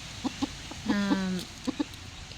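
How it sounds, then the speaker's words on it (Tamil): A chicken clucking close by: a few short clucks, then a longer drawn-out call, then two more quick clucks. "எங்கள் கோழி பாருங்கள் எப்படி இருக்குது"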